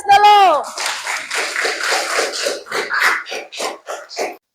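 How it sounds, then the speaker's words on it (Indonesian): Students in a classroom clap after a lesson, a short, uneven patter of hands that fades out over a few seconds, starting just after a voice. "Oke, kasih aplaus dulu."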